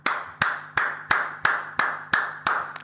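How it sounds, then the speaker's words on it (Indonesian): A single person's hands clapping eight times at a steady, deliberate pace, each clap sharp and close with a brief ringing tail. "Saya tepuk tangan dulu buat Anda."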